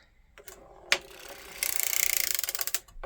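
A circular sock knitting machine being hand-cranked while a hung-hem sock is knit: a close, sharp ratcheting click, then a fast run of rhythmic clattering mechanical ticks for about a second before stopping.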